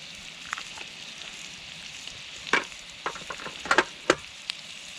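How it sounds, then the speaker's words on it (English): Soft, steady sizzling and crackling of chilli chicken frying in a small pot on a Trangia 27 camping stove, with scattered small pops and spits over a quiet hiss. "It's already started, I can hear it. Really sizzling away."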